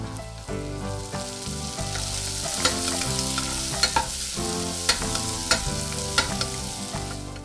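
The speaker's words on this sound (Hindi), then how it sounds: "बटर मेल्ट होते ही उसमें डालिए बारीक कटी हुई अदरक और लहसुन। जैसे ही भून जाए तुरंत डालिए प्याज।" Ginger, garlic and onion sizzle steadily in melted butter in a pan, a constant bright frying hiss with occasional sharper pops and stirring scrapes, while soft music plays throughout.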